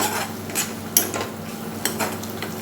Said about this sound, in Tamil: கொஞ்சம் நல்லா ஃப்ளேமில் வச்சு கிண்டி விட்டுக்குங்க